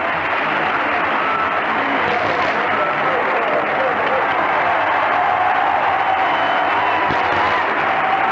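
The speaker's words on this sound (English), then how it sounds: "And here's that crowd reaction for the Knicks" Sustained roar of a packed basketball arena crowd for the New York Knicks at a 1973 NBA playoff game against the Baltimore Bullets, a dense, steady wall of cheering and applause with no break.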